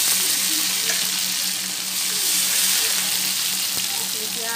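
Tomatoes fry in a pan for a paneer and soya chunk biryani, giving a steady broadband sizzle with faint scraping of a utensil throughout, fairly close and even in loudness.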